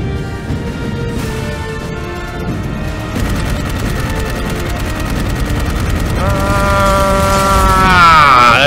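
Rapid, sustained gunfire from the video game Dark Void, with dense repeated shots building steadily louder over a sci-fi game soundscape with tonal hums and effects.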